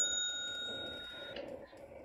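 A short notification bell rings once with a bright, sustained metallic tone that fades softly, followed by faint low background noise, no voices.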